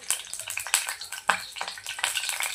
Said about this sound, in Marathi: तेल छान गरम झाले की यामध्ये आपण तेजपत्ता